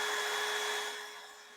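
A power drill whines steadily while boring small holes for the leg mounting plate of a wooden coffee table, one continuous close run that slowly fades.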